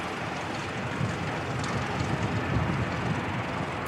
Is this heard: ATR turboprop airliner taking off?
yes